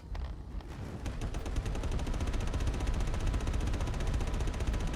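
A ship-mounted gun in Star Citizen firing at another ship, a rapid, continuous stream of evenly spaced shots that builds quickly and holds at a loud, dense level throughout.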